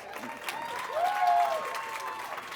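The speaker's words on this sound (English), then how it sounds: "Give her a round of applause." A crowd claps in a short burst of applause while a voice carries on over it.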